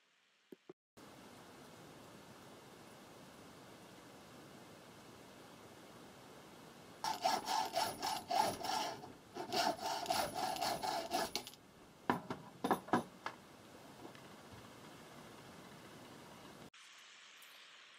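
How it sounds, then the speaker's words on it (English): A hand file dresses the cut-off threads of a bolt during a Yankee 1555 drill restoration, giving bursts of dry rasping strokes that come and go midway through over a steady low background hiss, fairly close. "I kind of just dressed up the threads a little bit with a file"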